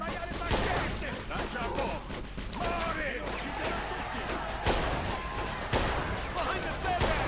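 Gunfire bursts in the Mafia 2 video game ring out repeatedly across the clip, loud cracks and rattles layered over game ambience and background chatter, with a few sharper shots standing out.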